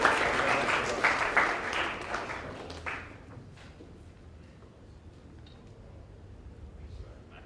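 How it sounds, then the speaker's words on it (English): Loud applause from a crowd at a Year 12 formal fills the first three seconds, then fades out, leaving low room murmur. "Give them a big round of applause"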